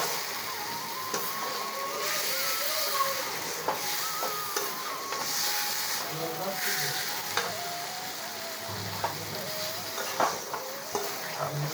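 Chicken is added to fried onions in a pan for a chicken and potato curry, sizzling steadily while a utensil scrapes and stirs in repeated strokes; a few soft knocks and clinks break through.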